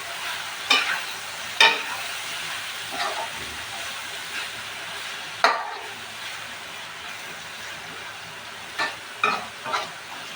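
Shrimp bhuna cooking in a pan, a spoon stirring and scraping in occasional bursts over a soft, continuous sizzle, with quiet pauses between strokes.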